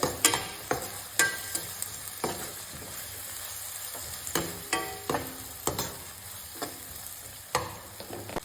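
Spiced khichdi mixture with salt and coriander-cumin powder being stirred in a hot pan, repeated scraping spoon strokes at irregular intervals over a continuous gentle sizzle, close by with no voices.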